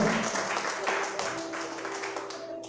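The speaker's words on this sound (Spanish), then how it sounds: "Den un aplauso fuerte al Señor." A church congregation claps steadily together, a dense patter of applause that fades slightly toward the end, with a voice faintly audible underneath.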